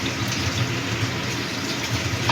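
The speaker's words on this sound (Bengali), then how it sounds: "মিক্সিং জারটা ধুয়েও জলটা দিয়ে দিলাম।" Rinse water from a mixing jar poured into a pan while cooking spicy kudri, a steady close liquid splash and gush lasting the whole moment with no talk.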